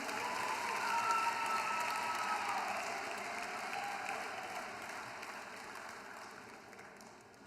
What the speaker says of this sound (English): Let's give one very large final round of applause